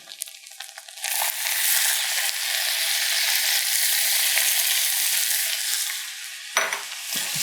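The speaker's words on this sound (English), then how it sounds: "Again, we're just going to stir them up." Sautéed mushrooms are stirred in reserved bacon fat in a pan, giving a steady, close sizzle with scraping stirs that runs for several seconds, then a few clinks at the end.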